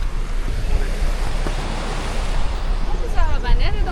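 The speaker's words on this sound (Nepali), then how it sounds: "यो त खोलाको पानी रहेछ" Clear river water near Kotor flows in a steady, close broadband rush, with voices briefly talking over it toward the end.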